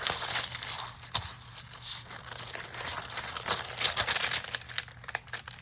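Handling and crinkling a piece of parchment paper for junk journaling, a steady close-up rustle with repeated sharper crackles throughout, no voices.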